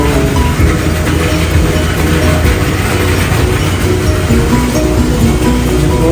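Cold water gushing steadily into the wash tank of a dairy milking plant, a loud, continuous broadband rush with no pauses.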